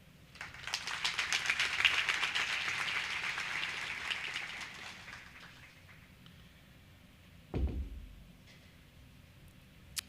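Graduation congregation applauding the parents at a Motheo TVET College ceremony in Bloemfontein: a swell of many hands clapping that builds quickly, holds for several seconds, then tapers off, followed by a single dull thump.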